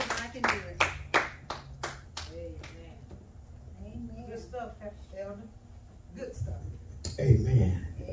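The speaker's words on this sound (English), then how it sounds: "Come on and clap your hands." Church congregation claps hands in several sharp, rhythmic claps at the start, then singing and talk follow, with a louder burst of voices near the end.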